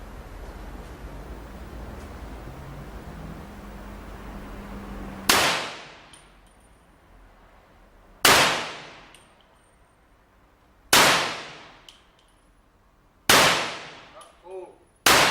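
Five loud carbine rifle shots ring out at a sport shooting range after a quiet stretch, each a sharp crack with a long decaying echo, spaced a few seconds apart.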